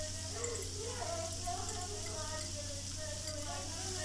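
Minced meat filling with garam masala and coriander is stirred in a pan, a soft continuous sizzle with faint scraping, steady and close.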